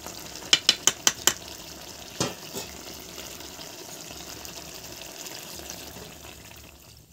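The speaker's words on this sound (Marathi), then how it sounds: "आता आपल्याला किती रस्सा लागेल तेवढं पाणी टाकून घेऊ" Water is poured into a simmering crab curry on the stove: a quick run of sharp utensil clicks, then a brief splash and a soft second slosh over a low, steady cooking hiss.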